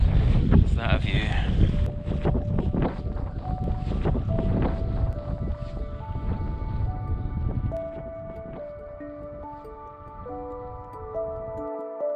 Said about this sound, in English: It's a bit windy, it's a bit cold